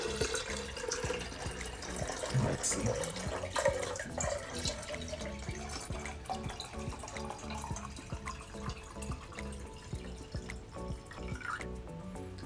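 Water pours from a Polish glass pitcher into a hydroponic planter container, a steady trickling and splashing stream that continues throughout. A voice briefly speaks partway through.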